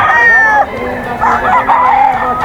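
A rooster crows loudly and close by at a busy outdoor poultry market in Bocaue, two drawn-out calls with clucking fowl and faint crowd noise behind.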